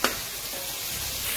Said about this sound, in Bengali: এখন আমি এটাকে পেঁয়াজটাকে ফ্রাই করব।